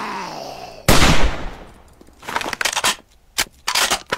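Hunting rifle shots fired in the zombie survival game 7 Days to Die: one loud, broadband blast, then a rapid cluster of sharp cracks and several more bursts, close and punchy with no talking.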